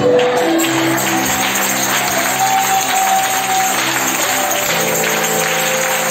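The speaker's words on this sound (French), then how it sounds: "Est-ce que vous applaudissez pour Dieu?" Church congregation applauding together after a prayer, a steady wash of clapping with a faint sustained musical tone underneath, moderately loud throughout.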